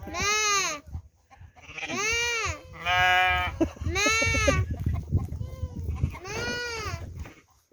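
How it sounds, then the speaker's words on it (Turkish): A run of high, wavering bleats, about five loud calls in close succession with brief pauses, from young sheep nearby. "Kuzular da meyliyor."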